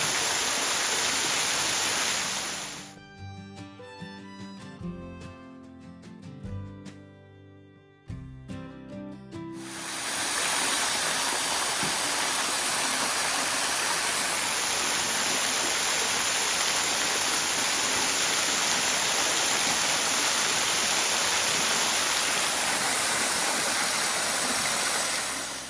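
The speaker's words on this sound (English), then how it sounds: "this is super nice to be able to have a nice little waterfall like this right here." A small waterfall off-trail in Big South Fork pours with a steady, close, full rush. For several seconds midway it gives way to a tonal, music-like passage, then the roar returns and carries on to the end.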